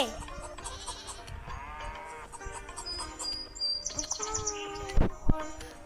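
A young goat kid bleats in short, thin cries among chirping birds outdoors, with people talking nearby and a couple of sharp knocks close by.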